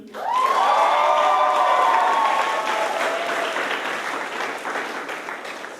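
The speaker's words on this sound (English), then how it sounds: "give a big round of applause for Nigel Richardson" A large crowd erupts in loud applause and cheering, with high whoops and shouts over dense clapping at first, then the clapping carries on strongly and eases only slightly.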